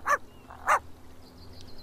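A dog in the MySims Agents video game gives two short, sharp barks about half a second apart. A softer whine trails off after them.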